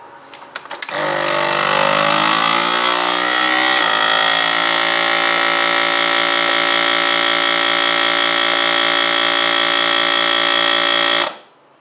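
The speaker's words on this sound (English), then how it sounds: "I'm going to run a seal right down the edge there" A vacuum sealer's heat bar runs a seal along the edge of a plastic food-storage bag, giving a loud, steady mechanical drone with a pump whine that starts abruptly, holds for about ten seconds, then cuts off.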